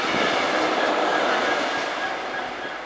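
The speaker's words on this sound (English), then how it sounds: "Here's a light engine 66 with nothing on it." A Class 66 diesel locomotive running light engine with no wagons rumbles past close by, a loud broad roar that fades slightly toward the end.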